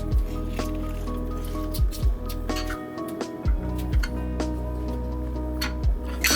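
A lime is squeezed by hand into fresh salsa, giving a series of wet squishes and drips that repeat roughly every second, close and clear.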